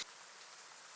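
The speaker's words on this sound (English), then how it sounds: "Is Darius chilling in a tree out in the rain?" Steady rain hisses down in a video game scene, a constant wash of drops with no other sounds on top.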